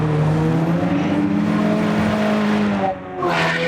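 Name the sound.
car engine and skidding in a video game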